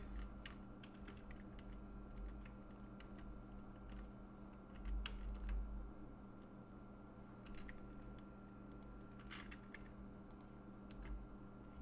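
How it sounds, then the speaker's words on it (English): Light typing on a computer keyboard, sparse scattered key taps over a steady low background hum, faint and somewhat distant, with no talking. "Let's type in Isaac."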